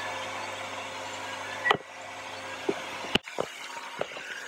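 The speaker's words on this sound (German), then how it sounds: "So, ich habe jetzt den Föhn an." A hair dryer runs with a steady whooshing drone and motor hum, broken by a few sharp clicks and bumps as it is handled.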